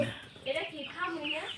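Fayoumi hens cluck in a box, several short close clucks and squawks rising and falling over about a second and a half, with people talking nearby.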